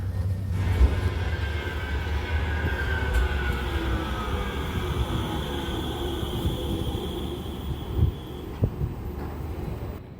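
A Manchester Metrolink tram pulling into the MediaCityUK stop gives a steady, close rumble of wheels on rail with a whining tone that slowly falls as it brakes, then a few clunks near the end.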